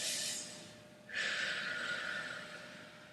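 A person doing a yoga side stretch takes deep, close breaths: one short breath, then a longer, steady breath that fades slowly.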